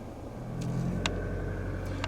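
A Mazda CX-5 diesel rolls over a bumpy road, with a steady low engine and road rumble heard from inside the cabin and a few faint knocks from the bumps.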